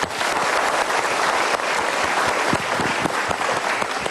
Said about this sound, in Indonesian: Oke, kita berikan tepuk tangan dulu.